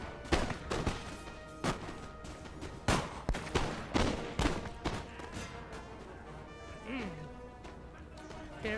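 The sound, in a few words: line infantry musket volley in Napoleon Total War video game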